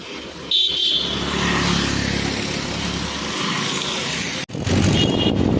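A tractor comes up from behind on a farm road, its engine a loud continuous drone that holds steady for several seconds, drops out briefly, then returns strongly as it draws close.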